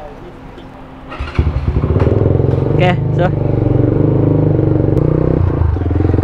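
An RFS 150i motorcycle fresh from a low-budget oil service with Castrol semi-synthetic oil starts up and settles into a loud, steady close-range idle, with a brief spoken word near the start.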